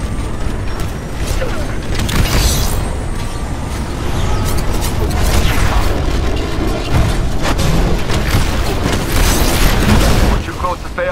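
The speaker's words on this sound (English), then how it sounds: "Spinning up the cannons for another shot." A railgun cannon spinning up and firing in a video game: heavy mechanical rumbling and booming blasts roll continuously, with whirring machinery and sweeping high-pitched whines layered over a dense, loud low end.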